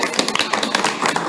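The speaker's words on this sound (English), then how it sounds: "Round of applause." Audience at a city council goal-setting session claps in a brief, dense round of applause, close and fairly loud, with many overlapping hand claps and no talking.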